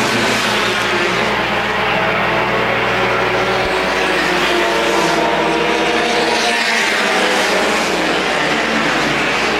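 Front-wheel-drive compact race cars drone steadily around Winchester Speedway, a loud continuous engine roar from several cars in a close pack, without a break and with no one talking.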